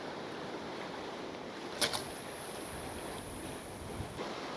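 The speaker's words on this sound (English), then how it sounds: "it's quite a strong wind coming from sort of northeast" Strong northeasterly wind on the seashore on the Isle of Wight, a constant broad roar of wind and surf buffeting the microphone, with a brief louder gust partway through.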